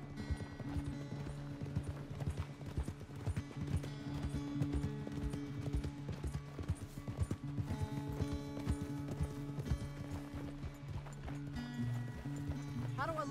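Horse hooves clip-clop steadily in Red Dead Redemption 2, a continuous rhythmic patter under music and spoken dialogue, with a brief whinny near the end.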